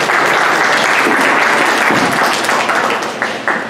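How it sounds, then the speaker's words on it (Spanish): An audience at a cultural event on literature and the Amazon applauds Gerson Leca García, a full round of steady clapping that thins and scatters into a few last claps near the end. "Un aplauso para Gerson Leca García."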